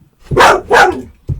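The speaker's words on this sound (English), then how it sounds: "Sorry about my dog there." A dog barks sharply indoors, two loud close barks in quick succession followed by the start of a third.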